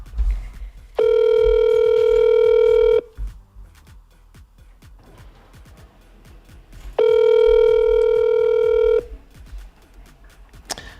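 A ringback tone for an outgoing phone call: two long, steady electronic beeps about two seconds each, separated by several seconds of quiet room noise, loud and close.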